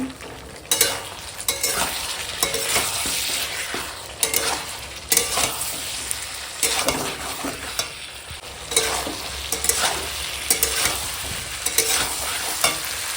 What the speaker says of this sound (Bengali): এখন সয়াবিনটা দিয়ে দিলাম দিয়ে একসঙ্গে কষাই